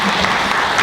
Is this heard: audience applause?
yes